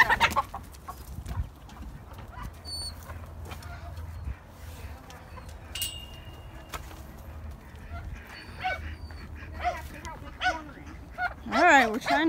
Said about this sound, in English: he's a tricky little rooster